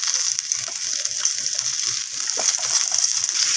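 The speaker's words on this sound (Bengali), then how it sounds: "তো সমস্ত কিছু মশলা এইভাবে নাড়াচাড়া করে কষিয়ে নিচ্ছি।" Ground spices including red chilli powder and cumin powder sizzle in a pan as they are stirred and fried, a steady close hiss with soft scraping underneath.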